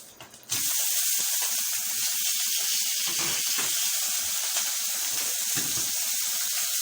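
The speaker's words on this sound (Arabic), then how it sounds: "هنا شويه زيت وهنا شويه زيت. هنزل السجق." Sausage hits hot oil in a pan with a sudden burst of loud, crackling sizzle that keeps spitting and popping steadily close by, after a brief quieter moment at the start.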